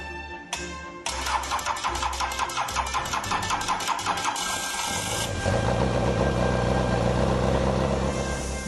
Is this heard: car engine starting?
yes